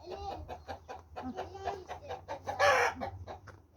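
Several chickens cluck close by in a busy, irregular chatter, with one louder squawking call near the end.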